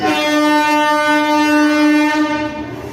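At a railway station a train sounds its horn, one loud, sustained, steady blare lasting over two seconds before it cuts off, close by.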